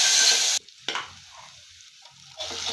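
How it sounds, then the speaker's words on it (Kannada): Pongal ingredients, including coconut pieces, fry in a pan with a loud hot sizzle that drops away abruptly, leaves a quiet gap with a faint scrape, then returns near the end. "ಇದೆಲ್ಲ ಇದಾಗಲಿ, ಫ್ರೈ ಆಗಲಿ"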